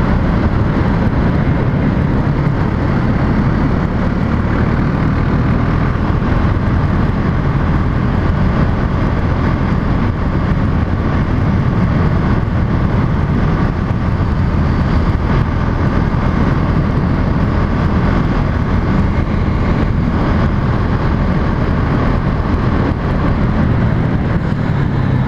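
A Husqvarna Svartpilen motorcycle ridden at steady speed, its engine droning continuously with strong low rumble mixed into wind roar, loud and close throughout with no clear breaks.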